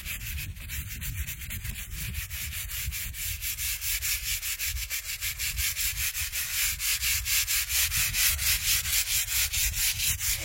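A brush scrubs a gravestone in steady, rhythmic strokes, loud and close. The harsh rubbing grows more even and regular as the scrubbing speeds up.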